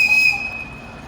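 A train at Haivoron railway station in Ukraine, a loud station with both standard and narrow gauge track, gives a sustained high whistle or wheel squeal that starts strong and fades slightly, heard alone.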